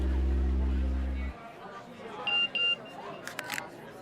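Short electronic phone message notification beeps, a couple of brief tones followed by a few quick blips, heard after a loud low rumble cuts off in a tense indoor drama scene.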